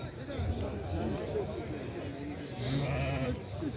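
Sheep bleat repeatedly at a livestock market, several overlapping cries near and farther off over a constant crowd murmur, with people talking throughout.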